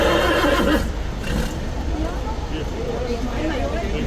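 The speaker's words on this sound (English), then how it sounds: "Why is the horse so vocal today?" A King's Guard horse at Horse Guards in Whitehall, London, gives a loud whinny at the start amid traffic noise, followed by shuffling hoof sounds and street bustle.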